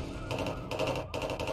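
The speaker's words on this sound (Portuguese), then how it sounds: "olha o tanto de polícia vindo e elas estão tudo atirando em mim" Police gunfire in the City Monsters game, rapid bursts of shots in three quick clustered volleys, close and fairly loud.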